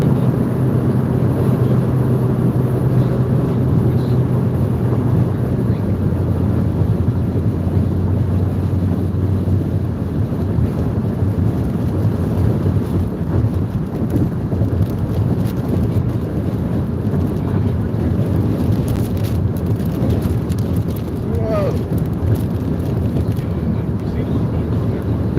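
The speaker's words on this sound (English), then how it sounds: "Lots of wind out here." Strong, steady wind roars and buffets the microphone throughout while out storm chasing a tornado outbreak in Iowa, a loud continuous rush with gusty swells and no pauses.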